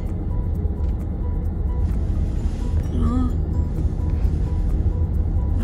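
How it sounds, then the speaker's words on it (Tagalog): Many cars crawling through late-afternoon road traffic make a dense, continuous engine rumble close by, steady throughout, with a short tonal whine midway and a voice speaking faintly under the noise. "Maraming sasakyan."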